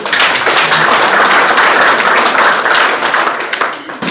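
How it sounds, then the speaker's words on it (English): A crowd gives a loud, sustained round of applause for a woman named Eunice at a winners circle introduction, dense clapping holding steady before tapering slightly at the end. "give Eunice a round of applause"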